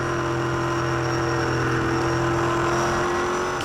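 A V8 Supercar race car engine holds a loud, steady high-pitched drone at sustained revs, close by, during the 2007 Phillip Island race, with no talking.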